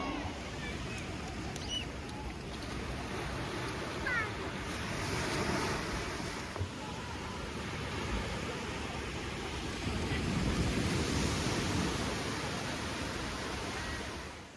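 Ocean surf at Radhanagar Beach on Havelock Island in the Andaman Islands, where a broad, steady wash of breaking waves swells and recedes in slow surges, loud and continuous, with wind buffeting the microphone throughout.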